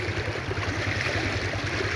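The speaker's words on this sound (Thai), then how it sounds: "น้ำไหลท่วมทาง" Rain-swollen floodwater flows across a road used by large vehicles, a dense continuous rushing and gurgling wash close to the listener with no pauses.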